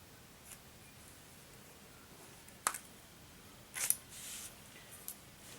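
Scissors make two short, crisp snips through duct tape while a business card is being made, with a faint click between them and quiet room tone around them.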